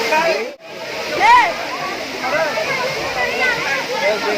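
Rushing water at Deojhar waterfall, a steady broadband roar throughout with splashing, while people talk over it.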